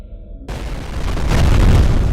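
A grenade detonates in the first-person shooter F.E.A.R. The blast is a sudden, loud boom that swells into a sustained roaring rumble, with no voices.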